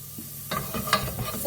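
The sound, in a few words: onions sautéing in ghee in a pot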